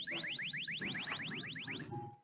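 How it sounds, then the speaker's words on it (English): A repeating electronic alarm sounds in rapid chirping sweeps, about a dozen in quick succession, loud and close, as a shipboard alert in a tabletop role-playing game, over a low rumbling background. "while you weren't able to find why the alarms are going off"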